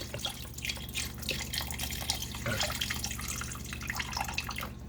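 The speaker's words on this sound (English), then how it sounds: "Okay, so add a cup of water to this." Water pours and splashes steadily into a pot of chicken and noodles, a soft continuous trickle with light spattering, close by and quiet.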